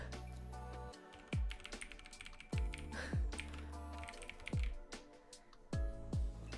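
Keyboard typing sound effects from an AI-generated Roblox short: irregular bursts of crisp key clicks, near and distinct, over a low droning music bed that drops in and out.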